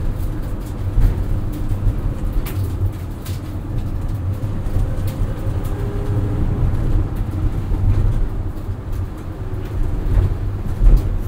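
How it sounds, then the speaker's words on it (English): Steady cabin drone from a 2019 Mercedes-Benz Sprinter 3500XD crew van under way, a continuous low engine and road rumble with faint turbo and transmission whine blended in, no talk. "Lots of turbo noises, a little bit of transmission whine."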